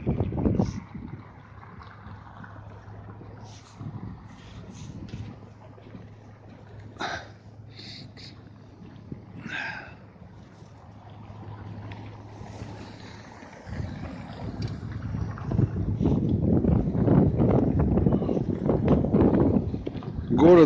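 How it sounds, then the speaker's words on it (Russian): Gusting blizzard wind rushes and roars on a November evening in Karaganda, Kazakhstan, building stronger toward the end, with someone talking at times over the blowing. "Ветер задувает."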